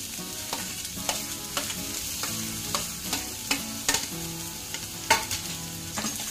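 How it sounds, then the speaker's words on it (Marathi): Vegetables with green beans, carrots and capsicum sautéing for Schezwan fried rice: continuous close sizzling with regular spatula scrapes and taps against the pan, no voices. "छान परतून घ्यायच्या आहेत आपण"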